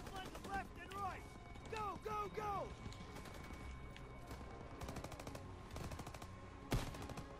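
Call of Duty: WWII combat with bursts of machine gun fire rattling through a noisy battle scene, a voice shouting in short calls early on, a sharp loud shot near the end.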